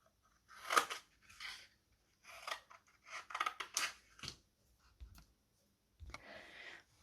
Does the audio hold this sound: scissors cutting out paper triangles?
yes